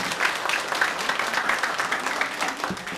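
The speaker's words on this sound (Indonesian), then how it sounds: "Tepuk tangan dong." Applause from the audience at a Balinese bondres comedy performance, a steady dense patter of many hands clapping that fills the clip, with scattered voices and cheers mixed in.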